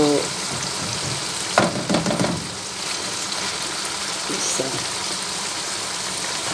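Kaleji (liver) frying with slit green chillies in a pan, a steady loud sizzle with occasional scraping stirs, while someone talks over it.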